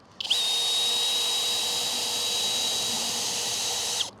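A power drill runs steadily for about four seconds, driving a 3/8 by 10-inch screw into arbor timber for a garden arbor; close, loud whine with a high steady tone, starting and stopping abruptly, no talking.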